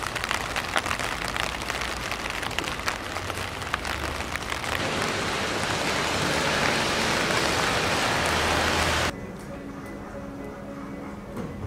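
Steady rain falls outside a large hotel's parking lot, a dense continuous hiss of drops pattering on surfaces, close and loud throughout, easing to a quieter patter in the final seconds.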